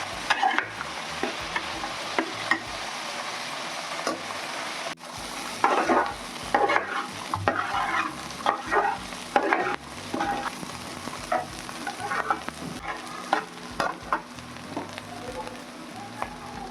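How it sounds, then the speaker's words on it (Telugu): Baby corn for pulao frying in oil in a pan with salt, sizzling steadily while a utensil stirs and scrapes in irregular bursts, fairly close and loud throughout with no talking. "ఒక 10 నిమిషాలు టైం పడుతుంది ఫ్రై కావడానికి"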